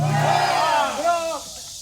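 A crowd roars a battle cry together in a loud, sustained collective shout that swells and then fades out over about a second and a half, at a memorial reenactment event for the Battle of Jinju Fortress.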